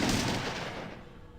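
Gunfire in the original Fallout video game, a loud burst of rapid shots blending into a dense rolling roar that slowly decays over about a second and a half, with no talking.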